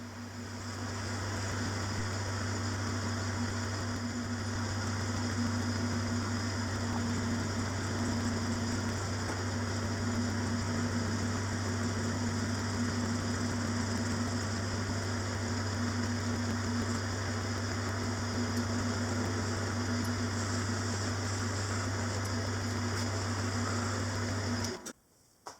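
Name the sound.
metal lathe turning engine cylinder end cover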